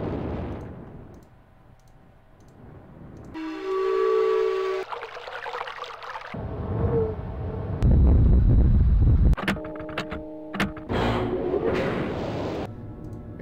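A metro train in the video game Myst runs through a sequence of loud mechanical hums, whistling tones, rumbles and clicking switches, shifting abruptly between distinct sections with no talk.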